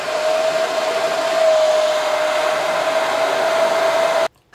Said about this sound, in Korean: 여기서 이제 드라이기로 열을 주면 돼요